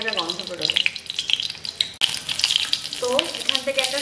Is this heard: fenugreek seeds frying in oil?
yes